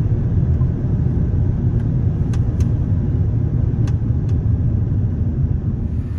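A 1997 Ford F-250 XLT 4x4 with a 460 V8, five-speed manual and new BFGoodrich tires drives along, giving a loud, steady low rumble from inside the cab with a few faint clicks and no talk.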